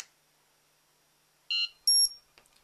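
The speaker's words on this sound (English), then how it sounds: "you can hear the beep." Two short high-pitched beeps from the ultrasonic button of an Elite-Tek ET-9888 remote dog training collar, clear and close in a quiet room, followed by faint clicks.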